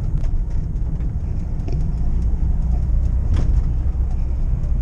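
Steady, loud engine and road rumble from inside a moving VW Vanagon with a faulty odometer, a continuous low drone with no talking.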